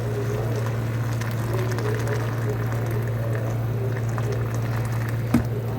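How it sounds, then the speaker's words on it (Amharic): Water simmering in a cooking pot for an Ethiopian-style merguez-type stew, a steady low bubbling and hum, close and continuous with a small clink near the end. "ውሃ ጨምርበታለሁ"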